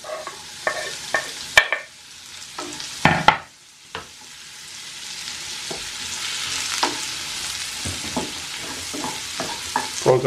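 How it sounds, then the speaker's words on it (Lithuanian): Onions fry in melted butter in a pan, a steady close sizzle running throughout, broken by sharp stirring clicks and scrapes that grow busier toward the end. "Čia dedam sviestą. Apkepam svogūnus."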